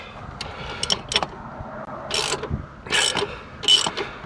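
Ratchet wrench with 13 and 15 mm sockets working on a Ford Fiesta, giving several bursts of rapid metallic clicking near the mic, with short pauses between strokes.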